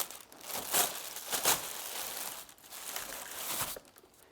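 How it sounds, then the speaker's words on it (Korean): Plastic bag packaging around a new Makita 2012NB planer is pulled open, giving loud crinkling, rustling bursts close to the microphone with short pauses and no talk. "비닐봉지 포장이 되어 습니다만 자, 개봉하겠습니다"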